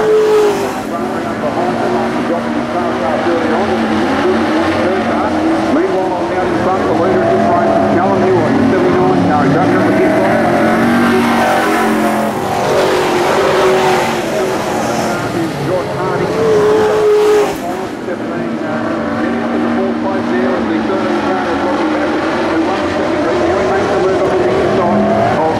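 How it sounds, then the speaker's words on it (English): Race cars roar around the Bridgewater Speedway track in a steady, loud wash of engine noise that swells and fades as they pass, with a commentator talking over a public address system throughout. "Here we go, the next race follows the V8 Giant."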